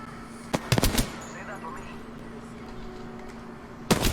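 Gunshots in an Xbox multiplayer video game: a quick cluster of sharp bursts near the start and another single shot at the end, over a steady game hum, with players talking.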